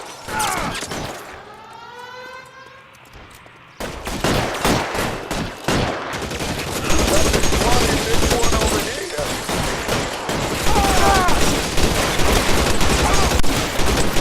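A Tommy gun fires in L.A. Noire, with loud rapid bursts and scattered shots over a rising siren and chaotic gunfight noise that grows denser and louder toward the end.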